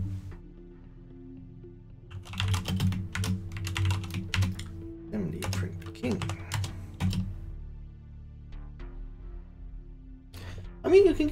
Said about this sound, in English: I felt like just using my regular old red switch keyboard.